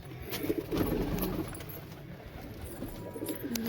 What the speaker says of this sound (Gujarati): આજે આપણે થોડા કબૂતર ઉડાડવાના છીએ